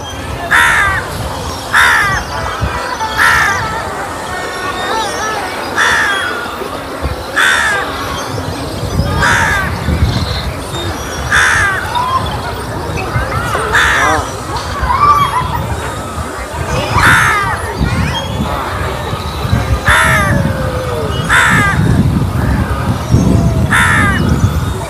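At a bird sanctuary in Uppalapaadu, Guntur, a flock keeps calling with loud, harsh caws repeating in a steady rhythm, over a constant bed of rushing, watery background noise.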